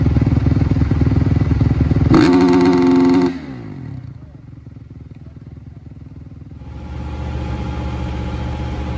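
Supercross motorcycles run through an AMA sound check, with a loud, dense engine roar that climbs sharply in a rev, drops back to a lower idle and then swells again, heard up close and steady throughout.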